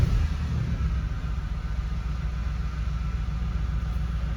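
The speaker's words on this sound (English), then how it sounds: "Let's fire the car back up." A car engine runs at a steady idle after being fired back up, giving a low, continuous rumble close by with no voices.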